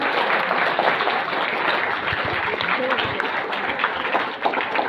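An audience at a Marathi speaking competition claps together, a dense steady burst of applause lasting the whole moment, with faint voices beneath.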